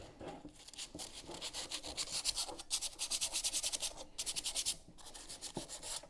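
Rag rubbing back and forth over a part coated in thick VHT paint, fast rhythmic wiping strokes close by, loud and alone, pausing briefly between bursts.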